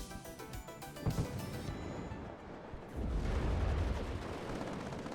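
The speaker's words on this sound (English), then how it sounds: "We're buying artillery now, trying to pound where its M110s are" Distant artillery rumbles in a WARNO battle, low booming blasts rolling under a dense wash of gunfire and battlefield noise, the impacts blurring into a sustained roar.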